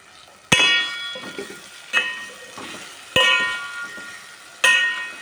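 A steel cooking pot rings with sharp metallic clangs as it is stirred, four loud spoon strikes spaced a second or so apart, each ringing out over a faint simmer with soft scraping between.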